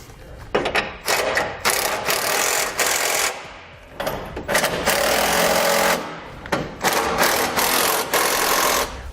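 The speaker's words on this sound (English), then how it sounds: "Now we can come back down underneath and tighten up all of our remaining hardware." An impact tool tightens bolts underneath a 2018 Ram while an Aries bull bar with removable skid plate is installed, firing in loud, close hammering bursts of a second or two with brief pauses between.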